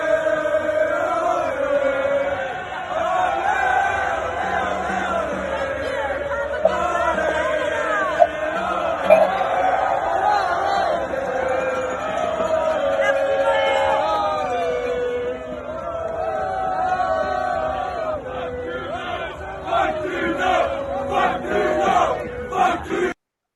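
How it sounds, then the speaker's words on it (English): Crowd at a Freedom Convoy protest on its first night, with loud sustained cheering, shouting and whooping from many voices, a dense roar that continues steadily before thinning near the end. "Here's another clip from Kelly about today's events. It's got a lot of cheering."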